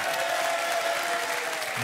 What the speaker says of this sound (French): Et on applaudit Grégory et Aurélia.